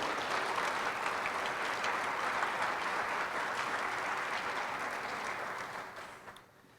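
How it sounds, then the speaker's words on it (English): An audience at a school district employee retirement and recognition ceremony applauds in a sustained, even burst of clapping that fades out near the end. "So I'd like to give a round of applause to our school board and to Bob."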